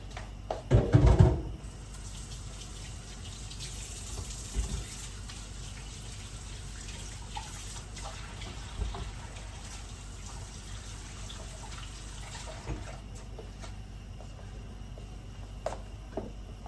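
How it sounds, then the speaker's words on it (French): A kitchen tap runs while hands are washed after mixing filling for seafood briouats. A faint, steady stream of water trickles throughout, with a brief louder clatter near the start. "on va aller laver les mains"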